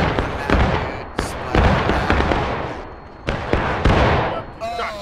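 Cannon fire in the Civil War game War of Rights, several loud booming blasts in quick succession with rumbling decay between them, close and forceful, with faint voices in the background.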